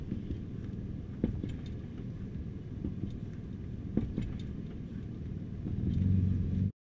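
A 2016 car carrying a Yakima HoldUp two-bike rack rolls over solid speed bumps in a parking area, giving a steady low road rumble with a few soft thumps and rattles and a swell near the end before cutting off.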